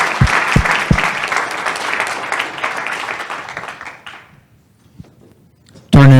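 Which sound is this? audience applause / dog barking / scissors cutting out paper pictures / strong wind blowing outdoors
audience applause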